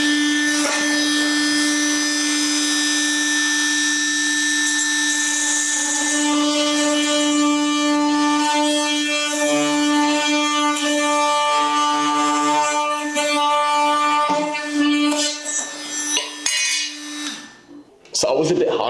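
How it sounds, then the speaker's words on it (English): Cordless Hikoki 36V oscillating multi-tool cutting through wooden skirting board, a loud steady high buzzing whine held for about seventeen seconds, then winding down and stopping with a few clunks at the end. "it actually has the least amount of vibration out of any multi-tool I've used"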